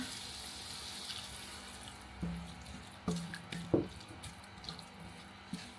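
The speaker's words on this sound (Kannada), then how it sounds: "ಸೊ ಇದಕ್ಕೆ ಸ್ವಲ್ಪ ನಾನು ನೀರು ಹಾಕೋತೀನಿ ಇವಾಗ." Water running and splashing in short bursts into a pan of ridge gourd and tomato curry, with a few louder pours and drips near the end; no voices, fairly quiet overall.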